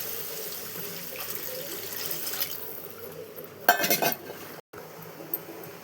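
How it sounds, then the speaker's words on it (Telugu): Water pours into a cooking pot for rice, a brief splashing gush midway amid light kitchen clatter of utensils, with a moment of silence after. "దీంతో 2 గ్లాసులు పోసేసుకున్నాం వాటర్"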